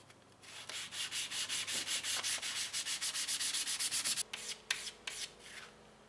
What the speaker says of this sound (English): I'm going to finish it off with some 1200 grit sandpaper